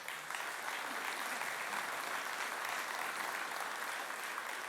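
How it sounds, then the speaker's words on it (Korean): Church congregation at a Sunday service applauding warmly, a steady dense clapping that fills the room from start to finish with no voices over it. "그 가족들하고 뜨거운 박수로 격려해 주세요"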